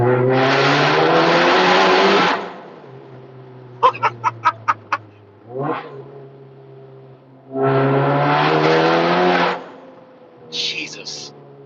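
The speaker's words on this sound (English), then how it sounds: "I'll give you guys another little sound clip of how loud this car actually really is." A loud Mk7 project car drives under an overpass. Two long, roaring engine bursts echo off the concrete, separated by a quieter stretch with a few sharp clicks and a brief whoosh.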